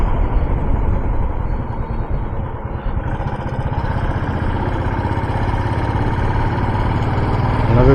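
A motorbike engine drones steadily and close while riding along a hill road trip from Gudalur to Meppadi, a continuous loud rumble with slight variations and no talk.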